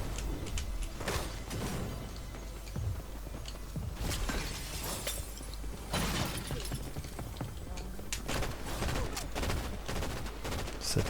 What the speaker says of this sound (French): Ça tire là-haut.